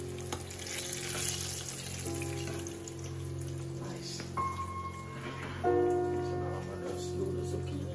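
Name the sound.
eggplant frying in a pan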